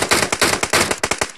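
Rapid gunfire in the PUBG video game on the Livik map, a loud run of closely spaced sharp shots in quick bursts, with no talking.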